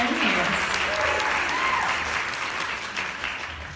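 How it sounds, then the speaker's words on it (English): Audience at a Miss Teen International 2016 pageant applauds steadily, a dense, even wash of clapping from a large crowd that continues throughout. "Let's have a big round of applause for our Miss Teen International 2016"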